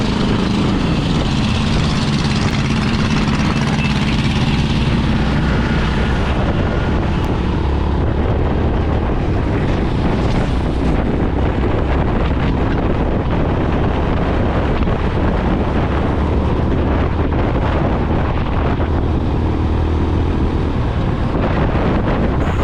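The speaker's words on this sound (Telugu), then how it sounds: "ఇప్పుడు వెహికల్ని హెవీ ఆర్పిఎంలో రైడ్ చేస్తాను" Honda CB 350 RS motorcycle, 2025 model, ridden hard at high RPM on the road, its engine roar buried under loud, constant wind buffeting across the whole stretch with no letup.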